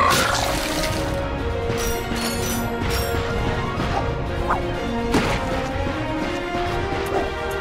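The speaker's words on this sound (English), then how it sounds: "Look at him smashing crates." Wooden crates shattering in the Ratchet & Clank video game on PS5, several sharp smashing cracks in quick succession over game sound, with no talking.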